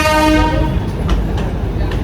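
On a passenger train ride, a horn sounds briefly at the start, then a close, steady rail rumble carries on with faint clicks.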